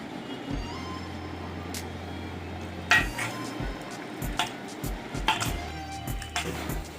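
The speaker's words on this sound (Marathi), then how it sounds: "आपण शिजलेल्या भाज्या सगळ्या मॅश करून घेऊया" A masher working cooked vegetables in a pressure cooker pot for pav bhaji, giving repeated soft squelching thuds and metallic clanks against the pot over a low background hum.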